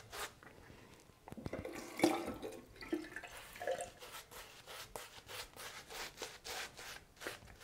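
Quiet water running and splashing, with wet rubbing and dripping, as shaving lather is prepared in a bowl. The sounds come in irregular close-up bursts against a near-silent background.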